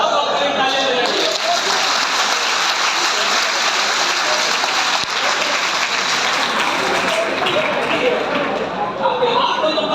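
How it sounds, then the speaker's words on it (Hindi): An audience claps continuously at a motivational speaking event in Mumbai, a dense, loud, even wall of applause that holds steady the whole time with no break. "अब आप कहीं ताली बजाइए।"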